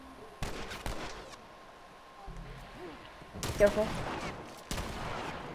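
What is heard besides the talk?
shotgun fire in video game The Last of Us Remastered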